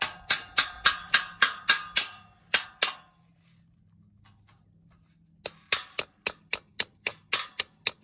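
A hammer tapping a concrete anchor into place during a garage build, a quick run of sharp, evenly spaced metallic taps, a pause with faint background hum, then another steady series of taps, close and crisp.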